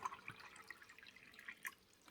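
Distilled white vinegar pours into a measuring cup, filled with over 16 ounces to descale a Keurig K-Duo coffee maker. It makes a faint, close trickle with a few soft drips and splashes.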